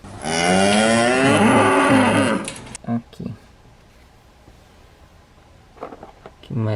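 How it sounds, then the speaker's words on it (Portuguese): A cow gives a long, loud, close moo lasting a couple of seconds, followed by quieter rustling and faint voices in the background. "Temos uma vaquinha aqui."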